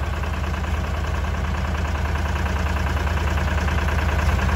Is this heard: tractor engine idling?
yes